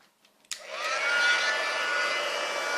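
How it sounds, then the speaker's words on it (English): An embossing heat tool switches on with a sharp click and then blows hot air in a steady, loud, close whoosh that holds without a break. "with our heat tool,"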